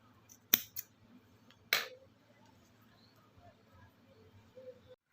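Scissors trimming saree tassel threads give two sharp, close snips separated by a pause, then faint handling noises in a quiet room.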